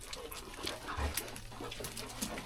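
An old dog whimpers and whines softly near a mountain cave, short high yips and nasal whines scattered over a low background murmur.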